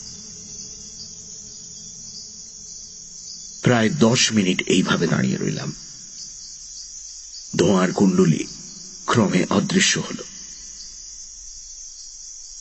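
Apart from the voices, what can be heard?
crickets chirping in forest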